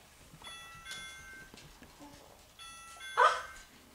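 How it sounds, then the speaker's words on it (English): A toy house doorbell chimes in two short ringing bursts on Christmas morning, with a louder electronic tone near the end amid soft background household sound. "Look it, ring the doorbell."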